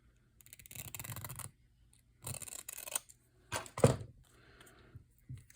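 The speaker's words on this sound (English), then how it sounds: "we're gonna trim this piece down" Scissors trim a piece of paper for a handmade tab-bound booklet in several short, close snipping and rasping passes separated by quiet pauses.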